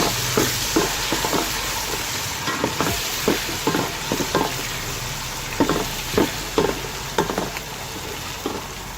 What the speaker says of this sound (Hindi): इसको हम ज़रा सा सौटे कर देंगे, भून लेंगे।